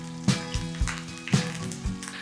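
Curry leaves and green chillies sizzling in hot tempering oil for a tadka idli, a steady fry hiss with a few sharp crackling bursts as they are stirred.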